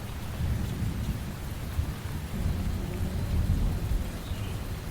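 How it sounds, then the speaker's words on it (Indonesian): Steady heavy rain pours down with low thunder rumbling continuously underneath, a dense, even wash of sound with no voices. "Hujan masih turun"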